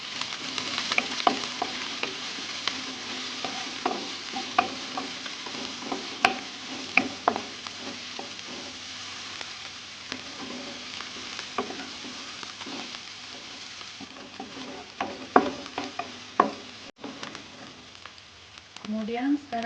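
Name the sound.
sautéing garlic and chili in a pan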